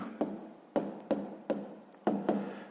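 A math equation is being written by hand, a series of about six short scratchy pen strokes in an irregular rhythm, close and quiet.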